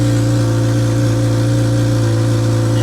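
A classic Honda Accord with PGM-FI fuel injection idles steadily and loudly up close, a continuous mid-pitched engine hum with a faint rhythmic pulse and no talking.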